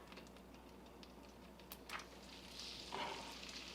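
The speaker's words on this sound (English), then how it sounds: "we're just going to kind of fry it up in the butter" Beef frying in melted butter in a pan gives a soft, steady sizzle with light crackles, louder near the end, and no talking over it.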